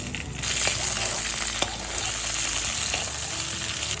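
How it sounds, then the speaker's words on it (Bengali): Broad beans fry in mustard oil left over from frying tilapia, a constant close crackling sizzle with a couple of sharp stirring clicks partway through. "মাছ ভাজ তুলে নেওয়ার পর যেই তেলটা আছে তেলে আমি শিম কটা একটু ভেজে নেব"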